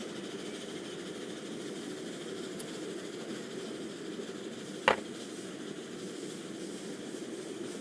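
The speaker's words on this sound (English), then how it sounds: "Here comes the train." A train rolls in within the Transport Fever 2 game as a steady, even rumble and hiss that holds throughout, with one brief sharp click partway through.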